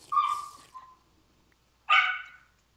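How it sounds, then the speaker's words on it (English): A household dog barks twice, close and loud: a sharp yelping bark that trails off, then after a short pause a second bright bark, with near silence around them. "my dog. It's annoying, I know."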